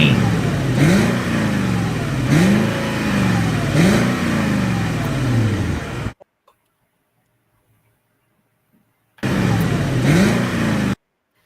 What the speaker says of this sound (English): Here's a Lexus 570 Land Cruiser Toyota.